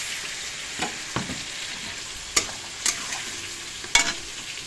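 Onion, garlic, ginger, cumin and coriander stir-frying in a pan, with a constant low sizzle broken by several sharp spatula scrapes and clinks against the metal at irregular intervals, no voices.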